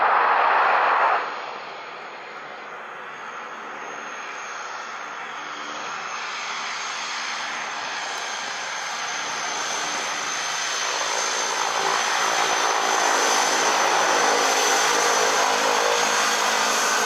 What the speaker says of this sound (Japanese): タラヤの DHC-6 です